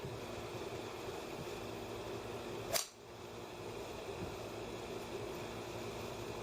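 A golf club strikes a ball off a rubber tee in a single crisp, brief impact click. It stands out against a steady, quiet background hiss.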